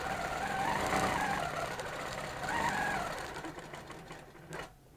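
A quilting sewing machine stitches a loop along an on-point ruler template, its motor whirring in rising and falling surges before winding down near the end.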